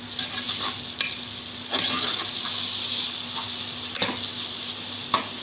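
Garlic-ginger paste hitting frying onions in a pot, a continuous close hiss and crackle with a few sharp stirring scrapes and spoon knocks.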